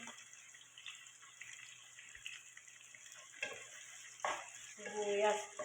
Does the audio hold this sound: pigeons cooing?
no